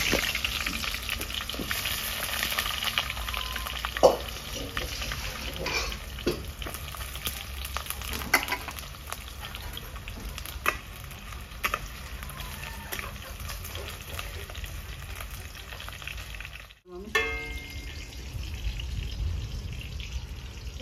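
Eggplant fries in a wok with a continuous soft sizzle and occasional clinks and scrapes of stirring, fairly quiet, with a brief sharp knock near the end before the frying noise resumes.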